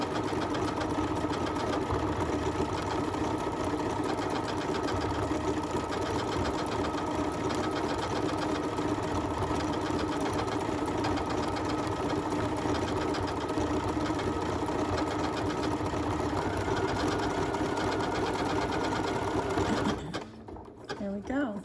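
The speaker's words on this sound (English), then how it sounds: "now it's going to stitch out my name." A Janome MC9450 sewing machine runs steadily as it stitches out a name inside an appliqué, a fast continuous mechanical whir and needle clatter up close for about twenty seconds before stopping.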